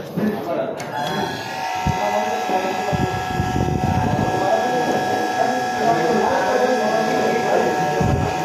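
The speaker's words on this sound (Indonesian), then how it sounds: "tombol 1 ini kalau saya tekan, fungsinya untuk memutar motor ini secara clockwise dengan frekuensi 30 Hz." A three-phase AC motor driven by an inverter at 30 Hz hums with a steady electric whine and tonal drone throughout, while a person talks over it.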